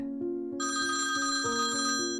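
A telephone rings with a repeating electronic trill whose tones step up and down in a steady pattern. It is close and continuous and no one speaks over it.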